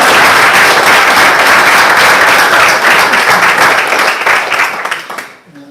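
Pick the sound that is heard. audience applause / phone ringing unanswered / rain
audience applause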